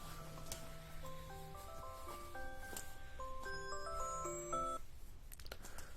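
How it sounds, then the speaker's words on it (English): An alarm tone plays a stepped melody of clear sustained notes for about five seconds over a low hum, fairly loud and steady, then stops abruptly. "There's my alarm."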